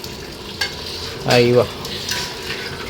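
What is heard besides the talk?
hot water poured into pot of boiling bones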